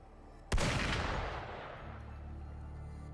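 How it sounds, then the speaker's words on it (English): A single loud gunshot blast in the video game Wuthering Waves, sharp onset followed by a long rumbling decay over a low ambient bed. "Gunfire! We've got intruders."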